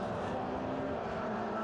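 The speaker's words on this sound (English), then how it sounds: "Just listen to the engine though." An MG Trophy Championship race car engine at Brands Hatch roars steadily at close range, a dense, continuous mechanical drone with no pauses.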